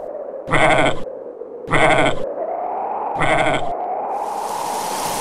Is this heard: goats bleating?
yes